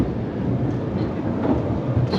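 A train pulls into a stop on a travel route, giving a steady low rumble of wheels and carriage noise throughout, fairly loud and close.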